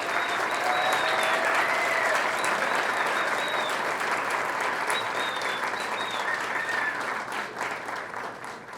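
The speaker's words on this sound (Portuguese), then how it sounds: "Aplaudamos o professor" An audience at an award ceremony of the Academia Cearense da Língua Portuguesa gives sustained applause for a professor receiving the Hélio Melo medal. The dense, close clapping continues throughout and thins slightly toward the end.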